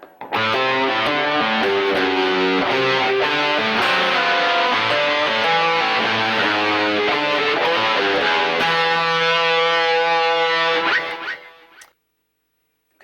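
Distorted electric guitar plays linked sections of a song, a loud, dense, fast riff of driving notes with steady rhythm, alone and close, stopping abruptly before a short silence.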